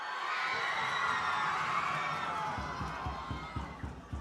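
A whole school crowd roars and cheers in a sustained, dense wave at a Bellville High School versus DF Malan High School under-19 rugby match. Rhythmic thumps join in later.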